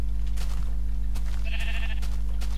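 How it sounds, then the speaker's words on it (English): A Minecraft sheep lets out a single short bleat partway through, heard over a steady low electrical hum with faint background noise. "Brown sheep staring at me."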